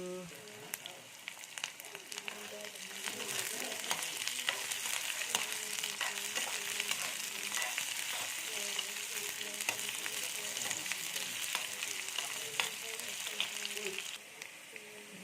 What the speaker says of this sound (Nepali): त्यसको बादमा प्याज हाल्छु, प्याजलाई पनि हल्का ब्राउन गर्छु अनि निङ्ग्रो हाल्छु।